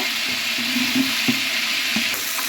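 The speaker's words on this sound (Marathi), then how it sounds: "बघा आलं लसूण छान भाजायला लागले चांगलं लाल होईपर्यंत भाजूया" Ginger-garlic paste roasting in a hot pan, a soft sizzle with light scraping and stirring clicks, close and steady over a short stretch.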